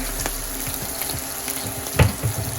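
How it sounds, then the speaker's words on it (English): Corned beef hash frying until crispy in a pan, giving a soft, steady sizzle with a few low clunks and scrapes, one louder knock near the end. "Just let it fry and get crispy."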